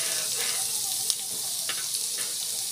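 Onions frying in hot oil sizzle steadily and close up, a bright continuous hiss broken by a few sharp crackles, with no one talking.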